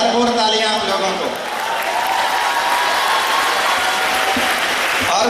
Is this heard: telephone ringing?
no